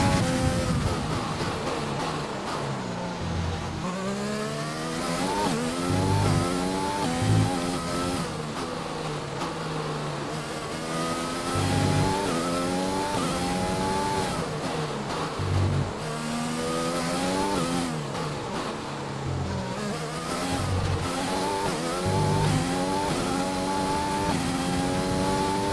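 F1 race cars in F1 2020 scream along at high revs, engine pitch repeatedly climbing through upshifts and dropping on downshifts, with occasional tire squeal; loud, continuous and close, no talk.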